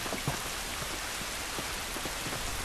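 Rainfall in The Last of Us video game, a constant soft hiss dotted with scattered, individual droplet ticks spread across the moment, no one talking over it.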